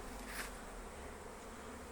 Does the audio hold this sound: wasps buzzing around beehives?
yes